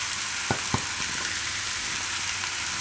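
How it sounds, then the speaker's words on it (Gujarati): Mango pieces dropped into a hot pan of sizzling oil for sweet Gujarati mango rice, giving a steady frying hiss with a couple of soft thuds as the fruit lands early on. "આમાં આપણે હવે કેરીના ટુકડા નાખી દઈએ."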